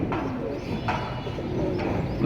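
Soft cooing of young pigeons at a pigeon sale murmurs faintly beneath steady background noise, with a couple of brief sharper sounds.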